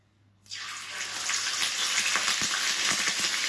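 A sudden burst of loud sizzling hiss as tofu hits a hot pan, then steady crackling and popping continues.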